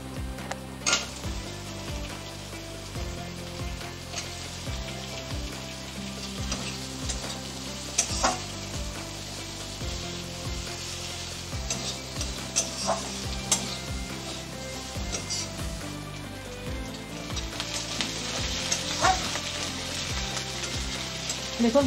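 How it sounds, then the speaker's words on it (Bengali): Chopped onion frying in oil in a pan, steady sizzle with repeated scraping and clinking of a spatula stirring, close and continuous without talk. "পেঁয়াজটা হালকা করে ভেজে নিলাম"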